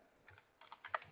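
Quiet keystrokes on a computer keyboard, a short burst of several soft clicks with the last tap slightly louder.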